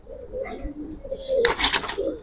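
Giribaj pigeons coo softly and steadily close by, ending in a brief louder burst of flapping or rustling.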